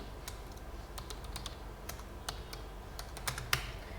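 Quick, irregular typing on a computer keyboard while mathematical notation is entered, a steady patter of close, fairly soft key clicks with one sharper tap near the end, and no talk over it.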